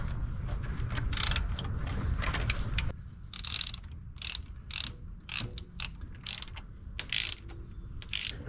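A torque wrench tightening Vortec intake manifold bolts on a 350 engine, giving rapid ratcheting clicks in bursts. A continuous run gives way to short, repeated pulls with brief gaps between them, close and moderately loud.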